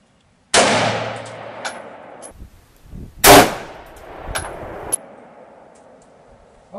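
A single loud close gunshot goes off, and a second sharp crack follows when the serious round strikes an armor plate with a clanging impact, then a lighter metallic knock as things settle into quiet.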